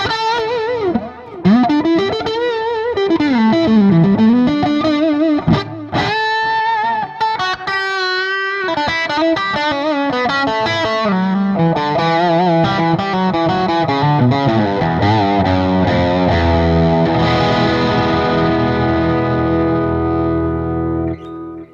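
Electric guitar played through an MXR Super Badass Distortion pedal set lower, distortion and output turned back, ringing out melodic phrases and sustained chords in a bright, crunchy tone, loud and continuous with no talking.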